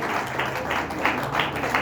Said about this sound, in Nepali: हामी ताली बजाउनेछौँ उहाँको लागि